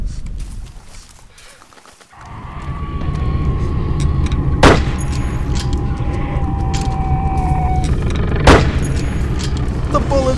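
Gunfire and heavy booms in a WWI video game set in 1916 fill a loud, sustained battle roar after a brief lull, with a couple of sharp blasts standing out and a faint voice beneath.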